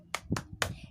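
Three sharp hand claps in a quick, even rhythm, part of a clapping chant in a third-grade Islamic studies classroom. The claps are close and fairly quiet, with a faint low murmur underneath.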